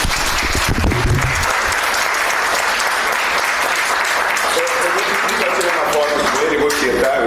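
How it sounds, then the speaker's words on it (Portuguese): Loud, dense audience applause after a lecture, sustained throughout with scattered voices mixed in. "vamos aplaudir essa brilhante apresentação do professor Pé"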